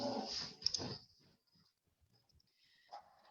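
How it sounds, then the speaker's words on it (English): A dog makes a rough burst of barking and growling up close, followed by a few faint whimpering yips and a thin whine in a quiet indoor room. "Okay, pardon my dog there."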